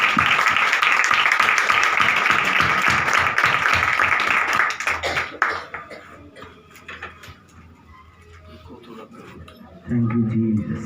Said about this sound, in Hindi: ताली होगी